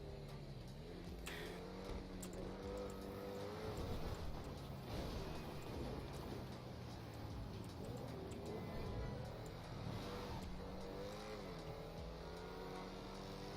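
A car drives through New York City in a role-play video game, its engine droning steadily with rising and falling revs and harmonic whine throughout, loud and continuous with no talking.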